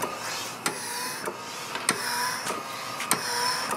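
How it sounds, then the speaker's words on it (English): A Harvard Apparatus dual phase control respiratory pump's motor runs with a steady mechanical whir broken by sharp, regular clicks roughly every half second, close and alone. "Motor sounds good."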